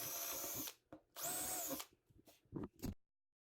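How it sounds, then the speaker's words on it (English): A power drill whirs in two sustained bursts, then a few short, sharper spurts before stopping, close and loud with no talking, pre-drilling four corner holes in wood for a 4x4 post. "I'm going to pre-drill 4 holes"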